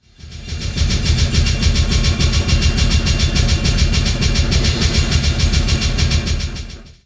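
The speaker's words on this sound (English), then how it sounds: "And voila, you have a blast beat." A drum kit pounds out a fast blast beat, bass drums, snare and cymbals hammering in a dense, relentless, loud stream that fades in and out at the edges.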